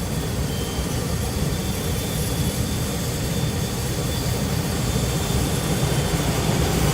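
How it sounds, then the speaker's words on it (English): Blowers of a OneTouch conveyor pizza oven ramp up from the energy-saving idle state into bake mode, a loud, steady broadband rushing roar that swells slightly toward the end, with no speech. "The blowers will ramp up."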